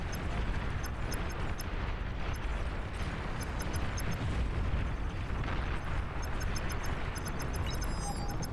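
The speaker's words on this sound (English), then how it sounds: "Friendly commander destroyed." Continuous rumbling explosion and battle noise from a commander unit being destroyed in the strategy game Beyond All Reason, a dense low roar with crackling bursts and small electronic chirps, loud and steady, with no voices.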